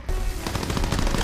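Rapid machine gun fire in a World War II Call of Duty shooter game, a dense, loud burst of rattling shots with no talk over it.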